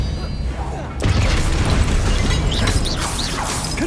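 A spell cast in the Hogwarts Legacy video game lands as a sudden loud burst of crackling magical impact, with clattering, popping effects carrying on under a continuous game soundscape.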